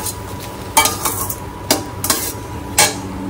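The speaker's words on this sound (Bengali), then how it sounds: "মাশরুম আর মটরশুঁটি দিয়ে একটু ভাতটা ফ্রাই করে দিচ্ছি।" Rice being stir-fried with mushrooms and peas in a pan, giving a few sharp spatula scrapes and clinks against the metal over a low background hiss, close and moderately loud.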